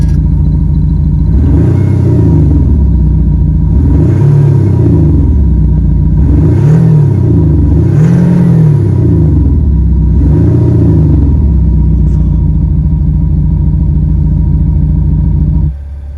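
An Audi SQ5 engine revs repeatedly while stationary, five loud, close throaty swells rising and falling in a steady rhythm over a deep rumbling idle, which then drops off abruptly at the end.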